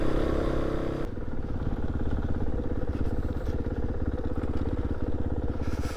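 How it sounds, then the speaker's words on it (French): A rally motorcycle engine runs loud and close, first revving high and then dropping to a steady, rough, pulsing drone that holds without a break. "À partir de 6000 tours, le moteur est génial."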